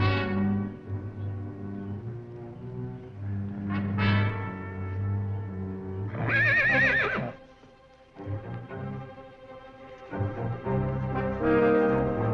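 Horses neigh and whinny in a quiet outdoor Western setting, several loud, shrill calls rising and falling near the listener, with hoof clip-clop faintly underneath and no talk.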